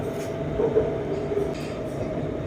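An elevated MRT Blue Line electric train in Bangkok running along Charan Sanitwong Road beside the Chao Phraya River, heard from inside the carriage as a steady hum and rumble with faint rail clatter.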